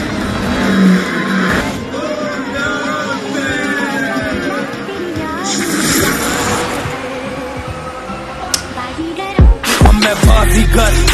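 A car races off under nitro boost, engine roaring with tire squeal and skidding through a dense, loud mix, shouts and chatter over it, ending in sharp bangs.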